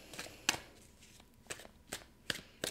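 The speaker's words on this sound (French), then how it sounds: "Je vais clarifier les quatre cartes." Tarot cards handled and shuffled in a quiet room, with a handful of sharp, crisp card snaps and flicks spaced irregularly against soft low background noise.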